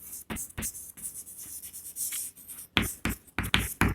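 Marker or chalk strokes on a classroom board spelling out the word prokaryotic, a series of short scratchy squeaks and taps in uneven bursts, close and fairly loud with no talking.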